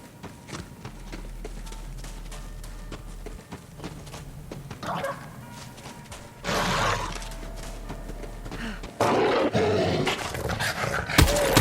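Vermilingua creature from Borderlands 3, heard as rough growls and roaring bursts amid game action, getting louder and more intense toward the end, with scuffling and impacts mixed in.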